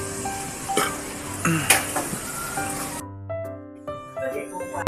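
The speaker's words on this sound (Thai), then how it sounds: "แม่ก็ขูดมะพร้าวเพื่อจะทำการใส่ในบัวลอย" Young coconut being scraped on a grater for Thai bua loy dessert, a rough scraping rasp with intermittent metallic clinks, close and fairly loud, with speech and some tonal background sound.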